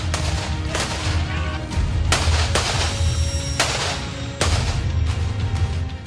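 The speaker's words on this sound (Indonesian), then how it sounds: "pasukan Brimob menyerbu para teroris dan melumpuhkannya dengan tembakan peluru tajam" Live rounds fired by Brimob police during a counterterrorism bomb-handling drill, several sharp loud gunshot cracks at irregular intervals over a noisy outdoor background.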